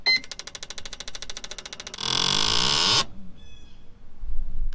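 Sea-Doo RXTX 260 jet ski engine running at low rpm, a rapid, uneven pulsing idle that then surges into a louder, steady roar for about a second before cutting off to near silence.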